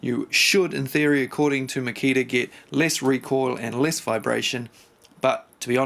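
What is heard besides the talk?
No distinct noise like a dog, phone or traffic.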